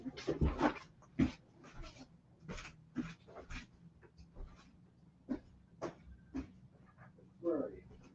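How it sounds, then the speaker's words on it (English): A dog barking in short separate bursts, some close and sharp, others softer, spaced irregularly across a quiet indoor room with faint breathing and movement between barks. "He's barking away."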